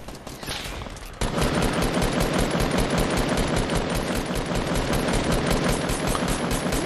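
Video game gunfire: after a brief lull, a rapid, continuous burst of automatic shots rattles on loudly and steadily to the end, with no talk.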